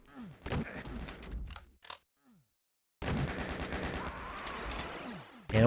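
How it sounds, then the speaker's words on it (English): Rapid chain gun fire in a Quake duel match, loud bursts of repeated shots with a short quiet gap in the middle, mixed with other game effects. "Here's some chain gun"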